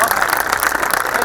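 Audience applause at a live Hindi poetry and song event, a short steady burst of dense clapping from a crowd, loud and even without pause.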